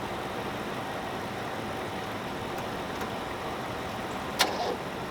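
Old car engine, fuel slowly reaching the carburetor, idling after being cranked, a faint steady rumble with a couple of small clicks and one brief sharp knock near the end.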